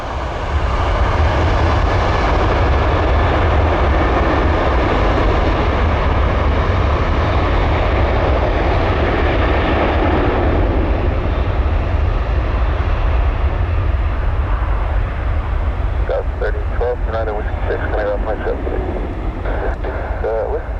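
At Tampa airport, an airliner takes off from the runway with a loud, sustained jet engine roar that stays steady and powerful throughout, while a radio voice speaks over it near the end.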